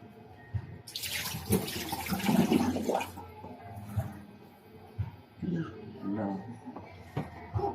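Water gushes from a tap into a clogged kitchen sink, a burst of rushing, splashing flow that fades after a few seconds, followed by gurgles, clunks and knocks with someone talking over it.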